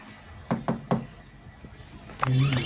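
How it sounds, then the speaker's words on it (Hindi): Three sharp knocks rap on a door in quick succession, followed by a faint tap and then a brief burst of other noise at the end. "कोको, दरवाजा खोलो ना, इतनी देर क्यों लगा रहे हो?"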